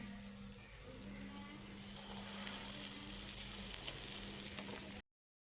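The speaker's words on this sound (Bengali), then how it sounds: "এরকম করে আমি সব বড়াগুলোকে ভেজে নেব।" Lentil fritters hiss and sizzle in hot oil in a wok, a continuous close frying sound that grows louder partway through before cutting off abruptly.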